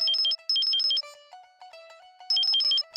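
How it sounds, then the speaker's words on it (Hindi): A phone ringtone plays loudly and alone, an electronic warbling melody in repeated bursts with a calmer tonal phrase in between before the trilling pattern returns. "ले आ गया बापू दा फोन"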